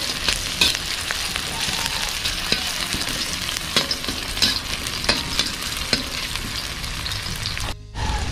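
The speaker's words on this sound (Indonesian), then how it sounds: "Kita tumis sampai mengharum." Garlic and shallots stir-fry in a pan, a continuous close sizzle broken by sharp clicks and scrapes of a spatula, with a brief cutout near the end.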